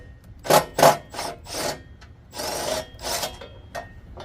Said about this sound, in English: Take this nut off.